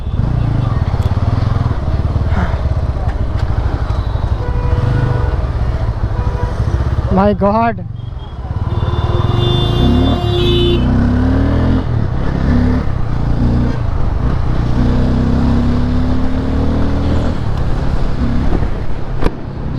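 A 2026 Bajaj Pulsar N250 motorcycle rides through city traffic, its engine droning loud and close throughout, with a sharp rising rev near the middle and a rider talking over it.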